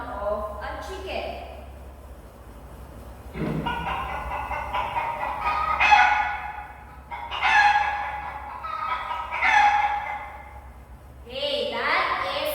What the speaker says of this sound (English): that is the sound of a chicken